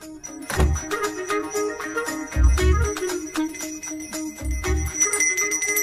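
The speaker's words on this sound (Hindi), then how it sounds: "मुझे जल्दी आओ बोल के यहाँ पर घंटी बजा रहे हो।" A bell rings out repeatedly on its own in a Hindi-dubbed horror comedy film scene, bright metallic clangs with long ringing tails, struck in about three clusters with dull thunks between, loud and close with no talking.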